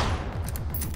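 Rapid gunfire in the shooter game Generation Zero, a quick burst of several loud shots packed into about a second.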